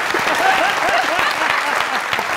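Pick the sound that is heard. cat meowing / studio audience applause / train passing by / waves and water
studio audience applause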